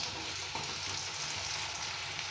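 Potato pieces frying in hot oil for a mutton dish, a steady soft sizzle and crackle with no voices.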